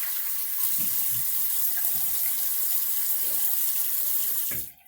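Tap water runs steadily into a sink while shaving soap is rinsed off, a continuous close splashing stream with a few soft knocks, cutting off abruptly at the end.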